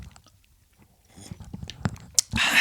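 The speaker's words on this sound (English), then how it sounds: "Those were good just coffee sips there." Coffee is sipped in a few quick, wet slurps close to the microphone after a quiet pause. The sips grow louder and busier toward the end, with no talk.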